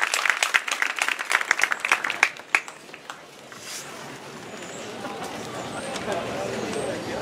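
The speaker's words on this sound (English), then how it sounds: "Another round of applause." Audience at a folk festival songwriters showcase claps for a performer, scattered close claps at first that thin out, giving way to crowd chatter and room noise.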